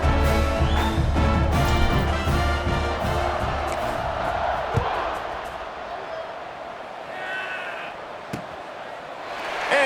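Stadium crowd noise in a College Football 26 video game during a UL Monroe versus South Alabama kickoff, a loud roaring crowd with chanting tones that gradually fades to a lower murmur, with a few sharp thumps and a commentator talking over it.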